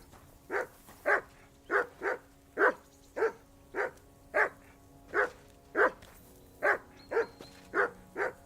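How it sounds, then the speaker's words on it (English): A dog barks repeatedly in a steady rhythm, about a dozen sharp, fairly close barks spaced roughly evenly, with faint background tones between them. "That barking was a pain in the ass."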